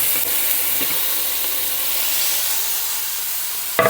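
Onion and tomato sizzle and fry in a pot while being stirred. A constant close, loud hiss carries throughout, with a faint scrape or two from the stirring.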